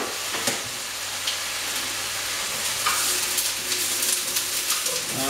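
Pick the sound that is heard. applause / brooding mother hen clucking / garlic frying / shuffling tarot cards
garlic frying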